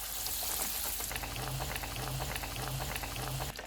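Crispy chicken box patties deep-frying in hot oil over a lowered flame, giving a dense, bubbling crackle throughout with a faint low hum underneath, no talking.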